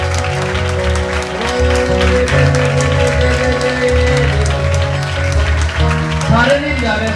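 Sustained rhythmic clapping from a church congregation at a Sunday service, loud and steady, with someone talking over it and music beneath.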